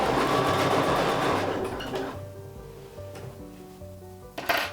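A sewing machine stitches binding onto a small sampler quilt, a steady mechanical whir and rattle that slows and softens to quieter clicking before a short bump near the end.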